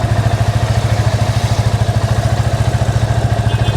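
A Yamaha FZ25 motorcycle idles close by, its exhaust thumping in a steady, even low pulse with a light mechanical clatter, the engine running alone at a constant moderate loudness.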